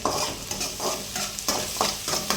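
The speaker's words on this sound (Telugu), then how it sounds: "ఉల్లిపాయలు బాగా ఫ్రై అవ్వాలి." Chopped onions sizzle and fry in a pan for chicken egg fried rice while a spoon stirs them in repeated scraping strokes. The frying is close and steady, and no one speaks.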